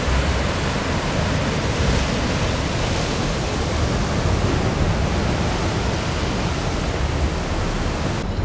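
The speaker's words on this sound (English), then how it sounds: "Oh, we've got some lovely waves crashing in as well, people." Waves crash in at the seafront by the Lido in Puerto de la Cruz, a loud, dense, continuous roar of surf close by, steady throughout with no voices.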